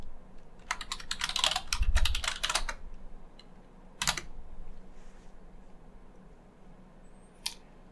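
Keys clatter on a computer keyboard as a Linux terminal command is typed: quick bursts of close clicks, a pause, a single tap, then one last keystroke in a quiet room.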